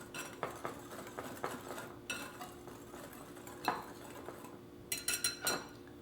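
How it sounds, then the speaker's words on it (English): A whisk clinking against a bowl while mixing dry granulated sugar, baking powder and salt, quick irregular metallic taps close by, with a few sharper clatters toward the end. "Take a whisk, and we will whisk this together."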